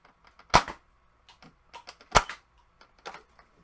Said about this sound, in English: I'm going to do a staged fire again, just so you can see the individual shots here.